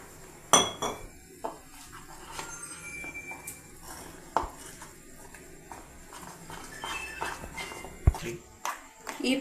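A spoon clinks against a bowl while pakoda batter is mixed in a home kitchen, giving sharp, irregular metallic taps with soft stirring between them, close and moderately loud.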